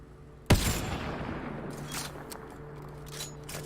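A single loud gunshot from an in-game weapon fired from inside the Nomad vehicle in Mass Effect Andromeda, a sharp close blast followed by a long rumbling tail with faint further shots.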